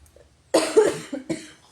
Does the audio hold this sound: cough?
yes